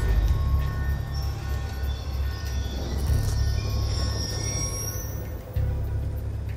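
A train rumbles past in the Black Ops 2 campaign level "Fallen Angel", a continuous low rolling roar with high metallic wheel squeals, loud and steady with no talk.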